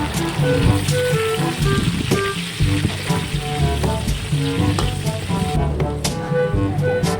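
Chopped onions hit a hot pan for adobong sitaw with pork, a loud, continuous crackling sizzle with dense popping throughout, fairly close and alone without talk.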